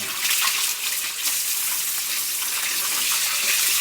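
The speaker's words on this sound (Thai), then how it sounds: "เอาน้ำประปาเนี่ยฉีดล้าง บ่อล้างอ่าง เพื่อให้ขี้ ของปลาดุก หรือว่าเศษอาหารต่างๆออก" Tap water sprays hard from a hose into an emptied cement catfish tank, a loud, continuous hissing gush with no pauses.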